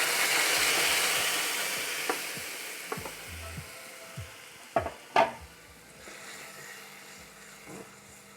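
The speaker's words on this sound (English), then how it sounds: "Once you add yogurt in a ghee, then you have to stir constantly." Yogurt stirred into hot ghee in a pan for dum aloo hisses and sizzles, the frying fading gradually while a spoon scrapes and knocks against the pan several times.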